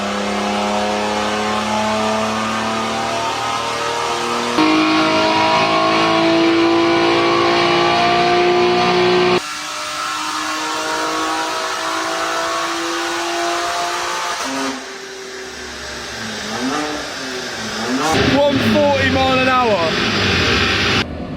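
A car with a cat-back exhaust revs hard on a dyno, its engine note climbing steadily in pitch through each gear, loud and close, with a voice talking over it and the revs dropping and rising again near the end.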